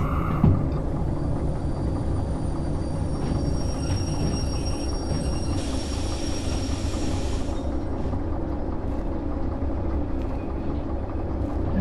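A locomotive runs along the rails in Derail Valley, a continuous heavy rumble with wheel and track noise throughout and a brief brighter hiss midway; no one speaks.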